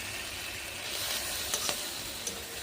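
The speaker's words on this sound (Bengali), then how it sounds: "সোয়া সস দিয়ে একবার নেড়ে দেবো।" Egg, onion, tomato sauce and soy sauce sizzle in a frying pan for Maggi noodles, a steady close hiss with a few sharp spatula clicks and scrapes as the mix is stirred.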